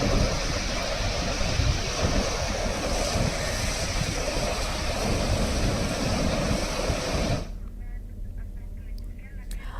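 Water rushing through the opened gates of Gangrel dam in Dhamtari during heavy monsoon rain, a loud continuous roar with wind buffeting the microphone, cutting to quieter sound near the end.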